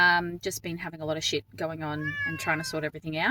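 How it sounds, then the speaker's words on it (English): A cat meows and caterwauls repeatedly in the background during a move, its drawn-out wails rising over a person talking close by. "You can probably hear my cat in the background losing the"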